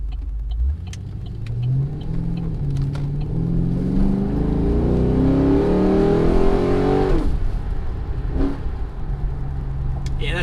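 A Holden Caprice V8 with a twin 3-inch exhaust revs up through a long rising pull, loud and close, then drops back to a burbling idle. A voice is audible faintly over it.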